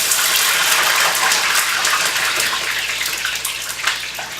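Salted water pours and gushes steadily as it is drained off soaking plantains, a loud continuous splashing rush that tapers slightly toward the end.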